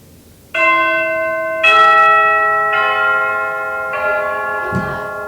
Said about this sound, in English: It sounds like a bell.